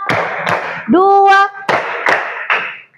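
Schoolchildren in a religious studies class clap on count, a few loud unison claps in a steady rhythm broken by a brief drawn-out vocal sound, close by in the classroom.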